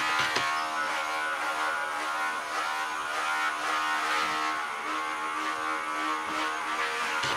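Electric clippers hum steadily and close while grooming the neck of a short-legged terrier, a continuous bright buzz lasting throughout with slight shifts in tone as the blade moves over the coat.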